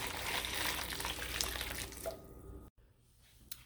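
Raw chicken wings are rinsed under a running kitchen tap, a steady broadband rush of water for over two seconds before it cuts off abruptly, then a quiet pause with a small splash at the end.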